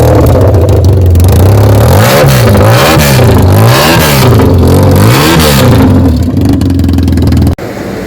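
A custom BMW R nineT motorcycle with trumpet exhausts revs close and loud, its deep engine note swelling in four or five rhythmic throttle blips before dropping back toward idle.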